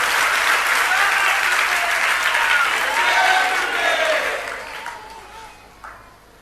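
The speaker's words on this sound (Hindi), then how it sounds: "सब नीचे बैठे बैठे ताली बजा रहे हैं।" A seated audience at a religious discourse claps together in a broad, steady wash that fades away over the final couple of seconds, leaving a few faint scattered sounds.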